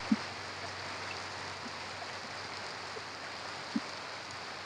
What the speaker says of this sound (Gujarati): જોઈ શકો છો જોરદાર વરસાદ પડી રહ્યો છે